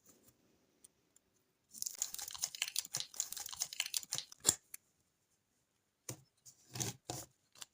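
Small paper surprise packets are torn and unwrapped by hand, a busy run of close crinkling and rustling, a pause, then more bursts of paper handling.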